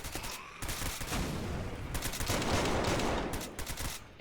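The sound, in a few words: gunfire from boosted weapons in Zombie Uprising video game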